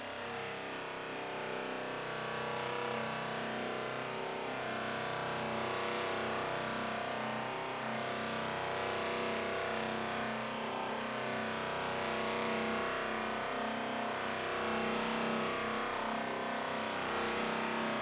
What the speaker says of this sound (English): I'm going to start buffing. My buffing wheel spins this way